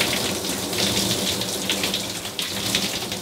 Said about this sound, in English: you pour over your head like this